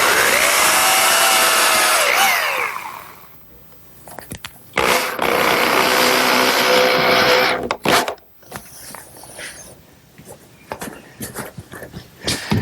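A power tool drives in fasteners for the bottom slats of an outdoor wooden bench, with a whining burst at the start, then several short sharp bursts and knocks separated by quieter pauses.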